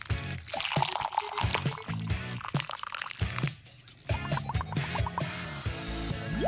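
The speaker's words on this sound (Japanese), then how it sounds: "F が石膏をかき混ぜてる。" Wet plaster being stirred makes squelchy, dripping liquid noises with irregular clicks and sloshes, fairly close and uneven in rhythm.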